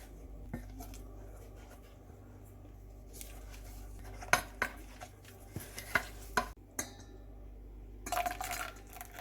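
Warm milk is mixed into a strawberry pie mixture in a bowl: a utensil scrapes and clinks against the bowl in scattered soft taps, with a few sharper knocks near the end.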